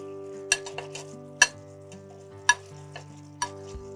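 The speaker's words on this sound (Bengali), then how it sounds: "এবার আমার গ্রেভিটা ফুটে গেছে, এইবার আমার আগে থেকে করে রাখা পকোড়াটা এবার আমি দিয়ে দেব।" Pakoras added to boiling besan gravy in a pot, heard as a few sharp clinks of a utensil against the vessel at a slow, irregular pace over a soft, steady simmer, with no talking.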